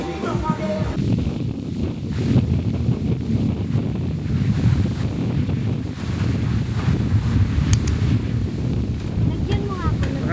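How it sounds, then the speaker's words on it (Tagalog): Strong typhoon wind blasting across a beach at Calilayan Cove, a loud, continuous roar and microphone buffeting with surf mixed in, unbroken throughout, while people talk faintly beneath it. "Ang lakas ng hangin, grabe."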